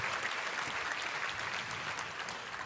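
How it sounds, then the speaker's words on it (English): Crowd applause at a Match Day 2026 ceremony, a dense, even wash of many hands clapping that stays fairly distant and gradually eases off. "give applause for everyone who put this together"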